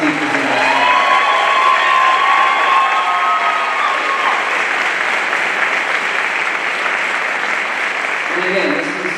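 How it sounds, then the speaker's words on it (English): An audience at a teacher of the year ceremony claps loudly for the teachers, sustained dense applause with a few cheers, a voice briefly rising at the end. "So let's give a round of applause"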